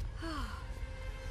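Pained, ragged breathing with a sharp gasp from a character in the video game Batman: Arkham Knight, heard close and alone over a low rumbling game backdrop.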